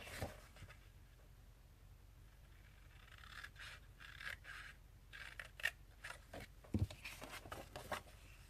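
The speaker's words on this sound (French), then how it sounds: "on va venir couper sur le trait ici et sur le trait ici" Scissors cut along the marked lines of a paper accordion card. The snips are faint, quick and scattered, with soft scraping between them and a couple of sharper clicks near the end.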